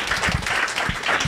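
Audience at a patient education and engagement session applauding a guest speaker's introduction, a brief dense patter of clapping with faint voices mixed in.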